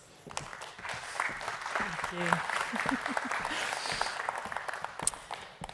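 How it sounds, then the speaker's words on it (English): Applause from a conference hall audience welcoming a minister to the floor, a moderate, fairly distant patter of clapping that holds steady for several seconds, with voices talking over it. "a warm round of applause, please"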